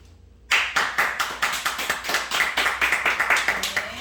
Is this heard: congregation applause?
yes